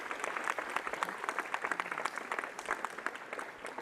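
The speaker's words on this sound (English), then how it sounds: "Let's give them a round of applause, ladies and gentlemen." Audience at a ribbon cutting ceremony for Kirksey Old Main applauding steadily, a continuous wash of many hands clapping at moderate distance, without speech.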